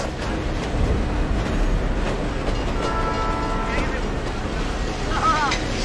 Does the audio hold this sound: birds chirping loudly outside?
no